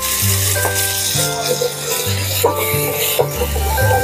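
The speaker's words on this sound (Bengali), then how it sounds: "যে বাঁধাকপিটা করে নামিয়ে রেখেছিলাম সেটাও এর মধ্যে আবার দিয়ে দেবো" Cabbage and peanuts stir-frying in hot oil give a loud, steady sizzle up close, broken by scraping and tossing sounds from stirring in the pan.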